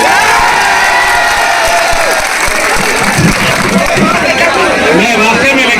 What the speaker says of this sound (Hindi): चाचा के लिए तालियां बजा दीजिए।